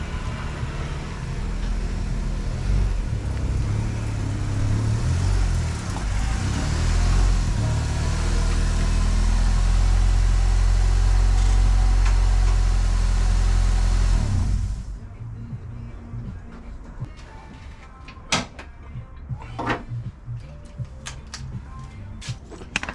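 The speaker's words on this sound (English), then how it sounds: "move the car off the driveway" A turbocharged Honda CR-V engine runs loud and steady as the car is moved off a driveway, a deep rumble that swells slightly, then cuts off, leaving faint clicks and knocks.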